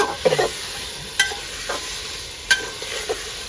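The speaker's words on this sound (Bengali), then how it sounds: "পেঁয়াজে গিয়ে ভালো করে নাড়াচাড়া করে নিতে হবে পাঁচ সাত মিনিট" Onions frying in a pan, a constant sizzle with a few sharp scrapes and knocks as they are stirred, close and fairly loud.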